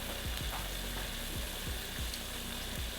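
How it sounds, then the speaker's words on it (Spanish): Beef milanesa steaks frying in a pan of oil, giving a steady, dense sizzle with repeated scraping or clicking sounds from handling, close and fairly loud throughout. "mientras que tenemos cocinando el bistec o la milanesa"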